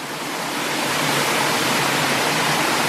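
A waterfall in the Serra da Ponte Nova at Palmeiras de Goiás, Brazil, pours in a loud, steady, unbroken rushing roar heard close and alone.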